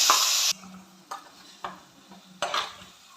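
Ground spice paste tipped into a hot pan for a home-style Kerala meal, with a loud opening sizzle easing into several scraping stirs of a spoon against the pan and softer frying underneath.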